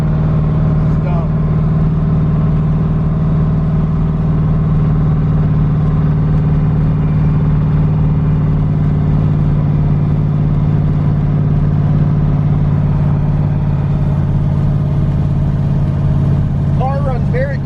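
An LS-swapped twin-turbo Fox Body car on slicks runs close by with a loud, steady, deep drone that barely changes for the whole stretch.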